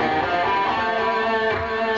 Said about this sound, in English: So instead of your natural minor scale sounding like this